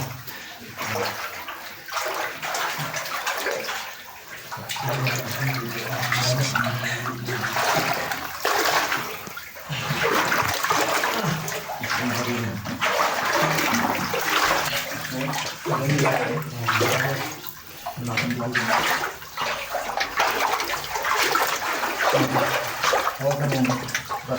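Spring water flows and splashes continuously inside a cave on Mount Banahaw in Dolores, Quezon, a loud, steady rushing gurgle filling the space, with a voice faintly audible beneath it.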